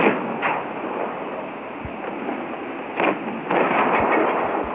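Tank gunfire in the World of Tanks Blitz game comes as several deep, booming shots over a dense rumbling game soundscape, loud and close, with no talk.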